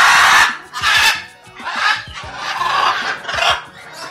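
Macaws and other birds crowd around inside an aviary cage, letting out loud, harsh squawks and screeches in repeated bursts that overlap with rustling and scuffling close by.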